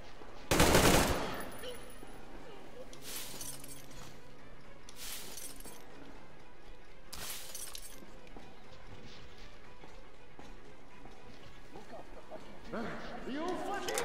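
Gunfire in Metro Exodus, with a loud sharp burst at the start and a few spaced shots after, under a steady game ambience.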